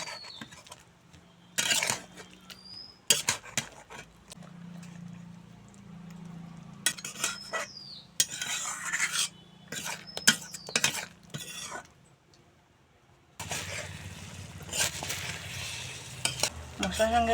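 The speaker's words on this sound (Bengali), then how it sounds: "এখন বেগুন দিয়ে আবারও মশলার সঙ্গে ভালো করে মিশিয়ে নেব" Fried eggplant stirred with spices and green chillies in a pan, heard as bursts of scraping spatula strokes and light metallic clinks broken by short pauses, with a soft sizzle underneath, close by.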